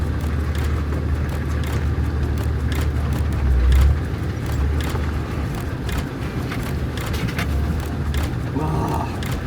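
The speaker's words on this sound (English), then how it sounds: "That sounds to me like handbrake shoes." Worn handbrake shoes clank underneath a 4x4 on a rough overland mountain track, irregular metallic knocks and rattles over a loud, continuous engine and road rumble heard from inside the vehicle.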